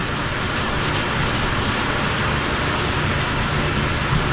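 Sanding sealer being applied to a spalted maple hollowform spinning on a wood lathe, a steady close rubbing hiss that continues without a break over the lathe's hum.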